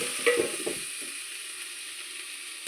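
Chopped vegetables frying with turmeric and no salt in a pan, a soft continuous sizzle with a couple of stirring clatters near the start, close and without speech.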